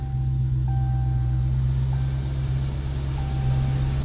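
A steady, loud engine idle from a Dodge Hellcat rumbles throughout, low and continuous, with faint intermittent high beeps above it.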